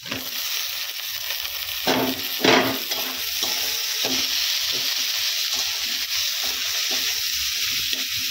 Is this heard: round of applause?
no